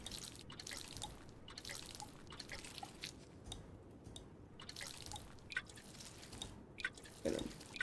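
Crops being watered in the video game Grimshire, a soft patter of repeated drips and splashes that recurs through the stretch at low volume.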